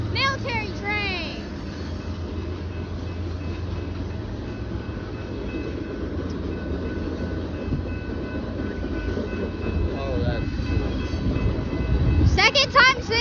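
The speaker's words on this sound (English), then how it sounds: "Military train!" A long BNSF military freight train rumbles steadily past close by, with a horn sounding at the start and again near the end, while people talk over it.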